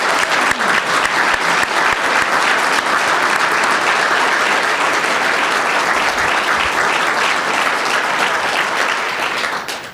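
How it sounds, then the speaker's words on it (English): Crowd at a Multnomah County Sheriff oath of office ceremony applauding, a dense, loud, steady wash of clapping for about ten seconds before tailing off at the end. "Please join me in one more round of applause for Sheriff Morrisey O'Donnell."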